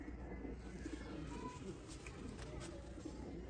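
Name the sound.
pigeons cooing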